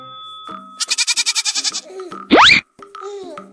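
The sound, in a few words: goat bleating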